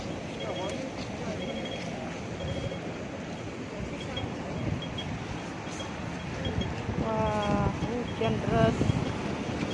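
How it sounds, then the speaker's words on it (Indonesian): Heavy rain and gusting wind during a level 8 typhoon on a Hong Kong street, a steady dense roar of downpour and gusts that swells louder toward the end, with a voice talking over it. "Hujan deras guys."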